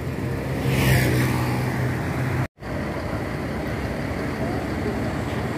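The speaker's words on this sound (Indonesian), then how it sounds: "Suasana lalu lintas pagi ini ramai lancar." Busy morning road traffic in Indonesia, with a Sahabat bus nearby: continuous engine rumble and road noise, broken by a brief dropout midway.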